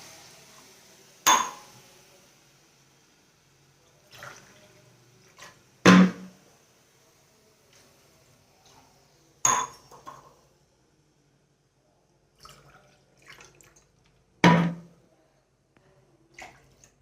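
Water poured from a glass into a cooking pot while making upma, heard as a few short, separate splashes with clinks between them, close by with quiet gaps.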